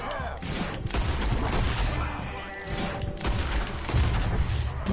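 Gunfire crackles in a Red Dead Redemption 2 fight on PS4, with repeated shots and bursts over several seconds, fairly loud and busy throughout.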